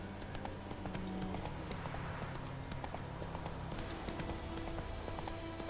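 Hooves of a galloping horse in The Witcher 3 pound in a fast, continuous clip-clop rhythm, faint and steady under ambient game sound.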